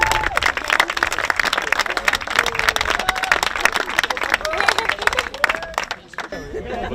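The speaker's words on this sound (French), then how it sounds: "on peut les applaudir" A crowd applauds trophy winners at a motorcycle trial event, a lively uneven patter of clapping with some cheering and chatter mixed in, easing off near the end.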